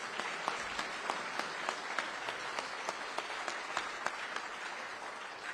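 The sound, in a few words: audience applause for the new police chief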